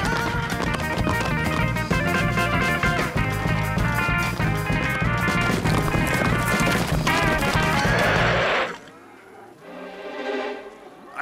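Horse hoofbeats in a Lucky Luke cartoon as the rider sets out, a steady galloping clatter under busy music for about eight seconds, then a quieter stretch with fainter sounds.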